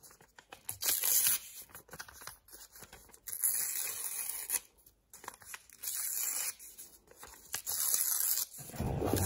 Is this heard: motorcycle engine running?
no